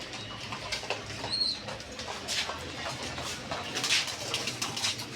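Danish pigeons at a pigeon farm coo in soft, repeated low calls, with occasional wing rustles and faint background noise.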